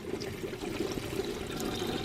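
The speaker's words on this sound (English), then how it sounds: "Maybe you could hear the drain valve is flowing" Water runs from the hot water drain valve of a Hymer Aktiv RV while the system is being winterized, a steady low gurgling flow that continues without pause.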